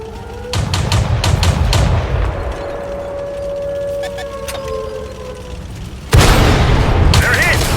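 Tank cannon shots in World of Tanks on console, heavy booming blasts that land one after another with a loud burst near the end, over a continuous game engine rumble and tonal hum while someone comments.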